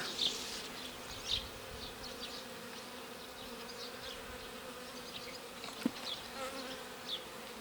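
Honeybees hum in a soft, steady swarm drone at an Alpine-style hive while a queen is removed, with occasional individual bees buzzing past close by.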